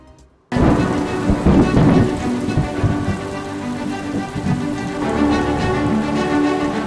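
Heavy monsoon rain in south Gujarat pours down steadily after a sudden start, with deep rumbles of thunder rolling underneath throughout.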